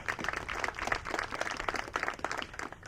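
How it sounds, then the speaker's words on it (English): An audience at a high school softball field dedication ceremony claps in a steady patter of many hands, moderately distant and continuous for a few seconds. "Let's give Paige a round of applause as well."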